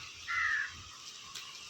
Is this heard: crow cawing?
yes